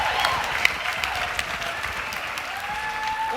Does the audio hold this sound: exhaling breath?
no